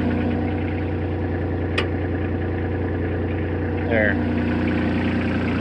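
A newly started mini loader idles on a sod job site with a steady low engine drone, a sharp click partway through, and a brief word spoken over the running motor.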